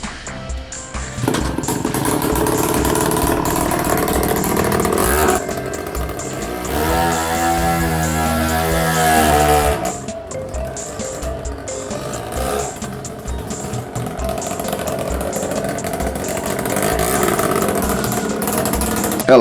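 A Tomos A55 LX two-stroke moped engine runs continuously and close, with a buzzy, raspy drone that rises and falls as it revs, surging to a higher whine midway before settling back.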